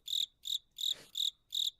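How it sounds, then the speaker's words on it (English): Crickets chirp in a steady rhythm, five evenly spaced high, shrill trills about a quarter second apart, faint and clear over a quiet background, with a brief soft rustle in the middle. "I hear crickets too."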